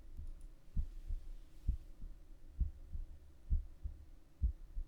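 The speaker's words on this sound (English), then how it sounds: "So thrilling that I can hear my heart beating fast." Video game heartbeat thumping in a slow steady rhythm, about two beats a second, each a soft low double thud over a quiet hum.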